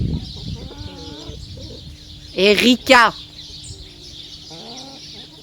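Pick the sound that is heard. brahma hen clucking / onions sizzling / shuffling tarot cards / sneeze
brahma hen clucking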